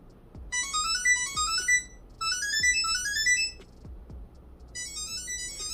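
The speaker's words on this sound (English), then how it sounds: "Jazzy tag will start ringing when you tap start." A Samsung SmartTag Plus rings with a bright, rising electronic melody that repeats three times with short gaps between, loud and close, over faint background handling noise.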